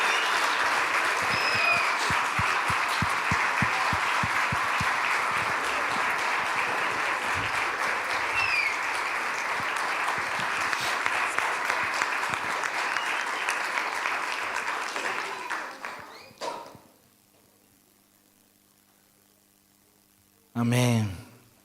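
A church congregation applauds a theater group with sustained, dense clapping that fades out, followed by a short silence and one brief burst of sound near the end.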